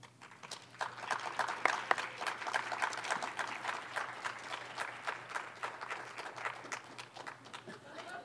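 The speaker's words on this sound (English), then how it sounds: "another round of applause for Sonia" An audience applauds a 2017 Peter Cohen Leadership in Healthcare Scholarship recipient at a college health professionals event, with dense, steady clapping from many hands that holds throughout without letting up.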